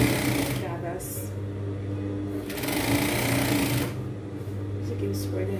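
A sewing machine hums steadily while sewing gathered fabric, a close continuous motor drone with a fast stitch rhythm, running under a person's talk throughout.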